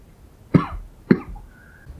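Two short, sharp coughs about half a second apart, close to the microphone, followed by quiet.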